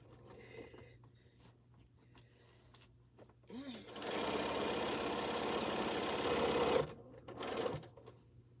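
A sewing machine stitches binding onto a quilt in one loud, steady run of about three seconds, then gives a short second burst, with quiet room noise before and after.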